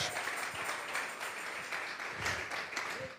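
A church congregation at a Sunday service applauds steadily, a dense wash of clapping filling the space with no clear pauses.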